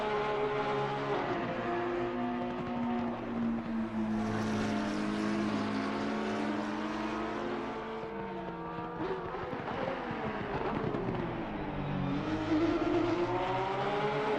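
A Porsche race car lapping Laguna Seca in a racing video game gives a loud, continuous engine howl. The pitch climbs and falls with the gear changes and braking, and no one speaks over it.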